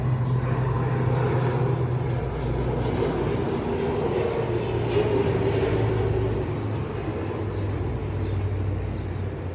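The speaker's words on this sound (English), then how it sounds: "we're gonna have an airplane passing by right now." An airplane passes overhead, a steady, fairly loud low engine drone that holds level for several seconds and then eases off slightly, with no voices.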